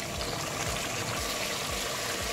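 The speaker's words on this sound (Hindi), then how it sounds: "उसके बाद हम इसमें पानी ऐड करेंगे।" Water pouring into a pot of goat trotters (mutton paya) in a home kitchen, a steady, loud gushing splash that keeps going without a break.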